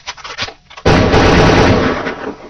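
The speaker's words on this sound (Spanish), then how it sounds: "3 disparos cambiarían todo" A gunshot sound effect recalls the shots fired at John F. Kennedy in Dallas. After a few faint thumps, one loud, sharp blast erupts and rings on with a long, rumbling decay.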